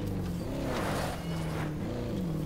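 A police car engine in Call of Duty Black Ops 4 Blackout drones steadily, with pitch rising and falling as it revs, continuous and fairly close.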